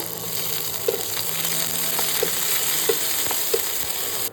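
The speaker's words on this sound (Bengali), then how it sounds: "লঙ্কা কুচিগুলোকে ভালো করে ভেজে আদাটা অ্যাড করে দিলাম আর তার সাথে টমেটো কুচিগুলোকে দিয়ে ভালো করে একটুখানি নাড়াচাড়া করে নেব" Chopped chili, ginger and tomato fry in oil with a soft steady sizzle, close by, broken by a few light clicks of a spatula against the pan, with no talking.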